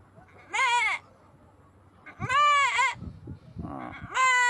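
A man imitates a goat, giving three wavering, nasal bleats separated by short pauses, loud and close.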